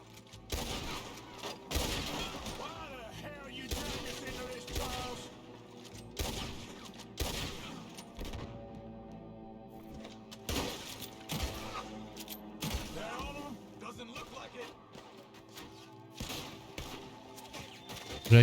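Repeated sharp pistol shots ring out in Red Dead Redemption 2, spaced irregularly every second or two, each with a short echoing tail over quiet game ambience.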